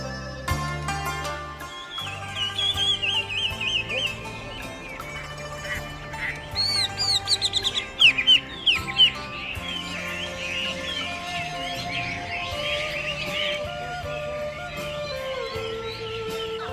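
Morning birdsong on Lion Hill above the ancient city of Lijiang, with chirps and warbling calls over a steady bed of music or ambience, brighter bursts of song around the middle.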